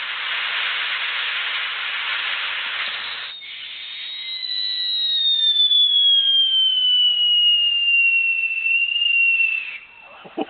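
A snowy-night fireworks show: a hissing burst fades into a long, rising-then-falling whistle of a shell streaking overhead, ending with faint crackles.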